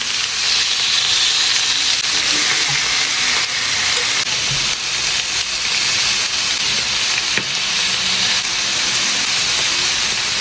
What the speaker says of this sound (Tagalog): pinirito ko muna itong mga liempo